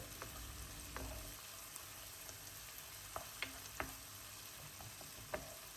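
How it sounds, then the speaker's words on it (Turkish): Pepper paste and tomato paste sautéed in a pan: a faint, continuous sizzle and crackle with a few soft clicks and scrapes of stirring, and no talking. "Salçamın kokusu çıkıncaya kadar bu şekilde kavurmam yeterlidir."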